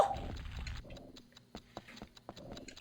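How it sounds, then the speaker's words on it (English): A quiet, regular mechanical ticking from the video game Rayman 2, soft clicks spaced evenly after a brief opening burst of game sound, with no one talking over it. "I hear it ticking, but what's it?"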